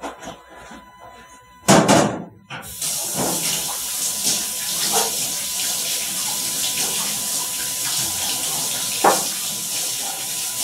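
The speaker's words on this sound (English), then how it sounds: "you take the dishes over, then you wash your hands" A kitchen tap runs steadily while hands are washed at the sink, a continuous near rush of water after a brief clatter and knock, with a short splash spike near the end.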